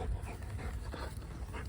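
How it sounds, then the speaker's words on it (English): A dog pants in quick, breathy bursts close by, a rhythmic huffing that runs steadily throughout without talk. "It needs to be panting from time to time."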